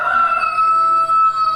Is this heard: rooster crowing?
yes